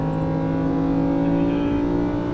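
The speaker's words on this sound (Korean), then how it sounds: "람보르기니는 아직까지 자연흡기 엔진을 쓰고 있다 보니까 이런 고회전의 참맛을" Naturally aspirated engine of a Lamborghini Huracan EVO sings at sustained high revs, a loud, steady harmonic wail that climbs slightly in pitch and holds continuously with no voices.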